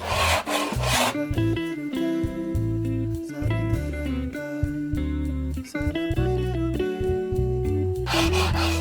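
Rhythmic rasping strokes of sandpaper on a wooden shelf repeat steadily, loud and close, with a grainy scratching texture throughout.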